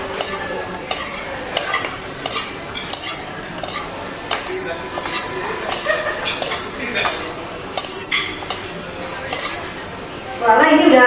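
Metal utensils clink and scrape repeatedly against a bowl while a Caesar salad is tossed and mixed in a restaurant, sharp irregular taps close up, with a louder clatter near the end.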